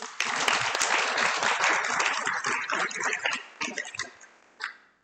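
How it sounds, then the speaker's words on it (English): Applause from a luncheon audience of the Philippine Mining Club, a dense crowd clapping that holds steady and then thins out into scattered claps near the end. "And for that, I think we all should give ourselves a round of applause."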